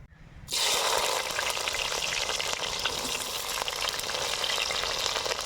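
Chopped vegetable pieces drop into hot oil already holding fenugreek seeds, setting off a sudden loud, close frying sizzle that keeps hissing and crackling steadily.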